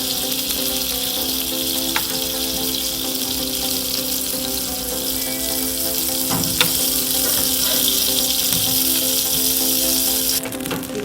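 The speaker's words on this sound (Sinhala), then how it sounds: "බටර් ටික මෙහෙම දියවිගෙන" Butter melting in a pan for a pineapple syrup gives off a steady, close frying sizzle throughout, with a few faint clinks and light stirring noises.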